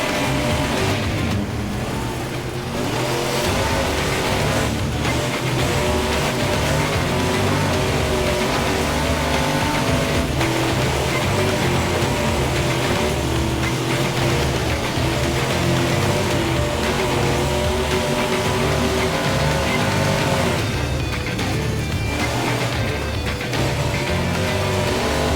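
Off-road rally racing cars in the video game Gravel, including Group B cars, trophy trucks and cross-country vehicles, with loud, sustained engine drone and revving mixed with other game audio.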